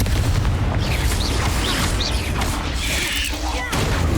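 Fiery Confringo spell blasts in the video game Hogwarts Legacy, a dense run of loud booming impacts and crackling bursts layered over constant combat noise and music, with no pause between hits.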